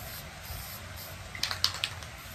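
A spray paint can gives several short, quiet hissing bursts while coating a fishing lure, following faint background noise.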